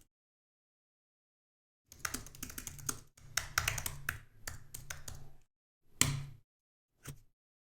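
Command typed on a computer keyboard, close, quick bursts of clicky keystrokes in several runs separated by short gaps, ending with two isolated key presses.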